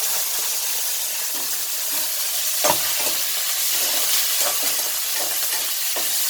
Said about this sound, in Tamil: அடுத்தது வந்து காஞ்ச மிளகா போட்டுறேன்